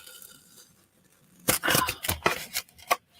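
Scissors cut out a paper craft piece for Easter home decor, a run of close, crisp snips and crunching slices after a quiet start.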